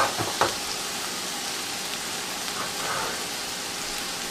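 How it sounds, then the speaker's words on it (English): Stuffed chicken pieces pan frying two at a time, a steady broadband sizzle that holds evenly throughout, with a couple of brief sharper crackles near the start. "We're just going to pan fry it right quick."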